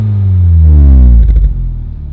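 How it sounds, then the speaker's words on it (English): Honda Civic Type R FL5 with a Spoon Sports N1 exhaust and factory downpipe, revved to about 4,000 rpm: a loud, deep engine note climbing steadily, then falling back toward idle with a brief burble, close up and with no talking. "I'm gonna get Jay to go and rev it up for us."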